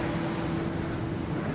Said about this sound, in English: The wind began to blow. The water swelled.